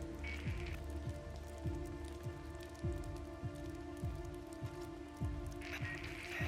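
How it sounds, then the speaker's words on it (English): Steady rain falls in the post-apocalyptic open-world video game Days Gone, a soft continuous patter with a low rhythmic engine-like pulse repeating underneath, moderately loud throughout with no talk. "Seems like it's always raining out here."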